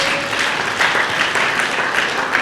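Steady applause from an audience at a book launch in Nairobi, a continuous dense wash of clapping from many hands, fairly close and even in loudness throughout with no voices standing out.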